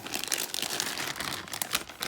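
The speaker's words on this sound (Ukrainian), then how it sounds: "Давайте її звільнимо з пакета." A Japanese figure is pulled out of a plastic bag, giving loud, close crinkling and rustling of plastic in quick irregular bursts, with no talking.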